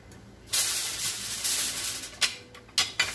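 Food sizzles in a hot stir-fry pan while cooking a Puerto Rican sancocho, a bright continuous hiss that surges loudly after a quiet start and flares in several short bursts.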